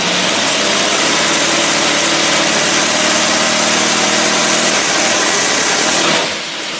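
An engine fitted with a Carter AFB 9627 carburetor is held at high revs near its rev limiter, roaring loud and steady for about six seconds before the sound drops off abruptly.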